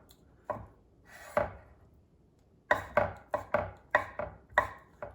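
A knife chops hard-boiled eggs into small cubes on a cutting board, a few scattered thuds followed by a quick run of about seven sharp, close knocks.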